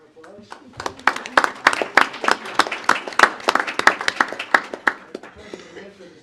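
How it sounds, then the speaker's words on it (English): Applause at a county Board of Supervisors meeting honoring older Americans, a small group clapping in sharp, distinct, uneven bursts that build and then fade out, close and fairly loud. "have a round of applause"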